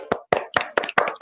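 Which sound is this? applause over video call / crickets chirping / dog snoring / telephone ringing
applause over video call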